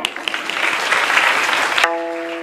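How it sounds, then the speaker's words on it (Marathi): A kirtan audience bursts into loud, dense applause for two performers, a sustained wash of many hands clapping that cuts off abruptly near the end, leaving a sustained tonal ring. "दोघांसाठी जोरदार टाळ्या."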